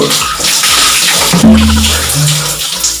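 Water sloshes and splashes loudly and close as DIY box braids are rinsed and swished in a basin, a continuous churning wash with gurgling low swirls and no talk.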